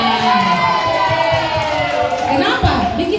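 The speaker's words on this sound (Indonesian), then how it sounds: "Tepuk tangan untuk kelas" Schoolchildren at a 17 August Independence Day ceremony at Ujung Pandang school cheer and shout together in a loud, lively burst, with high excited voices rising over the crowd noise.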